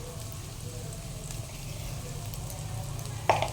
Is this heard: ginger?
yes